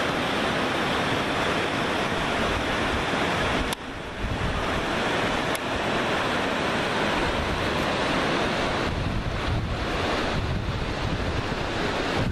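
A mountain river in a forested cordillera sweeps through a huge bend far below a cliff, heard from above as a steady, loud, broadband rushing roar that runs unbroken throughout, with no talk.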